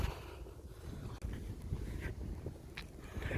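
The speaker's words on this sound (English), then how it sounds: "I told y'all it was windy out here." Strong outdoor wind buffets the microphone in a constant low roar, with gusts rising and falling and a brief sharp knock partway through as a tripod falls over.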